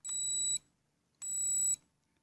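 Two identical high-pitched electronic beeps from a Cheerson CX-10 quadcopter remote control, each about half a second long and spaced roughly a second apart, close and clear against near silence.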